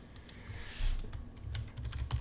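Keys tapping on a computer keyboard during a call-in show, a quick irregular run of light clicks close to the mic, fairly quiet.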